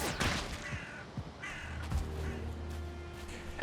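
A crow-like bird in the Valheim video game caws repeatedly in harsh, rasping calls at an irregular rhythm, fairly close, over a quiet ambient hum.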